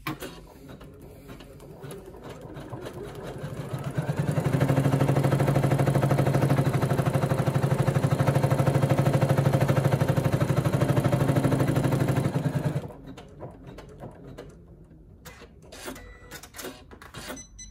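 An embroidery machine stitches an applique onto a towel, starting with a rapid, even mechanical chatter that runs for several seconds and then stops, leaving quieter clicks and handling sounds.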